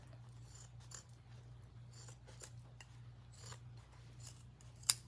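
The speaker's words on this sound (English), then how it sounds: "These scissors are just not cutting it." Scissors snipping through denim from blue jeans, a series of quiet, close crisp cuts and rasping fabric rubs at an irregular pace, ending in a sharper snip.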